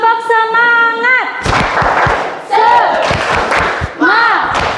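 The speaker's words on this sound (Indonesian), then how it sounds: "Ayo tepuk semangat." A classroom of students doing the Indonesian tepuk semangat spirit clap: a run of loud, fast rhythmic claps mixed with shouted chanting, following a sung or drawn-out vocal lead-in.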